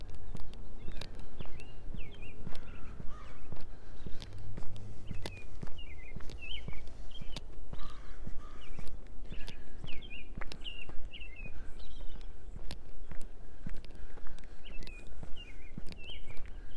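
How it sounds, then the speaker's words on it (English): Birds sing and chirp repeatedly beside a creek in a city park in Regina on an April day, clear and fairly close, over steady flowing water and some passing footsteps. "Hearing all these birds singing."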